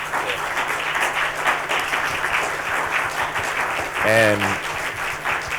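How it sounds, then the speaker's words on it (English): An audience at a public history symposium applauds, steady clapping filling the room for several seconds while a voice speaks briefly over it near the end. "can we please give these gentlemen another round of applause?"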